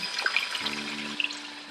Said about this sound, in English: there's a plug on the back that we open up, that we remove to drain the water from the filter